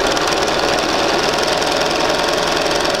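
A sewing machine stitches fabric for a quilt sampler, a loud, close, steady rapid chatter of the needle running without a break and with no voices.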